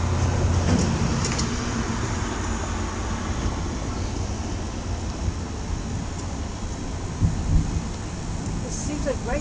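Thunder rolls through a lightning storm in Dallas, a steady low rumble blended with a rain-like hiss that runs the whole time, swelling briefly near the end.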